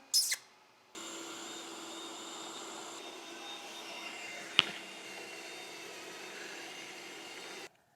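A robot vacuum cleaner runs with a steady whirring hum that holds at an even level for several seconds, with a short sharp knock partway through before the motor cuts off.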